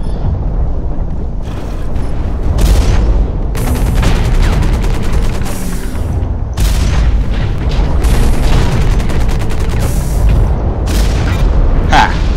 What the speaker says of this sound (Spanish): ¿Quién me está disparando?